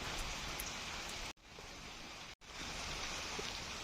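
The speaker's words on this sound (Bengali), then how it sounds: "এখনও কিন্তু বৃষ্টি হইতেছে" Steady rain falls in a dense, hissing wash, briefly cutting out twice before resuming at the same even intensity.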